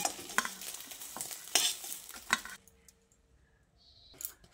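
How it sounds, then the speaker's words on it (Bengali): Egg pieces fry in oil while a utensil stirs and scrapes the pan, sizzling with sharp clinks for a few seconds before dropping to near quiet with a faint tap at the end. "এইভাবে উল্টে পাল্টে ভালো করে ডিমটাকে ভেজে নিচ্ছি"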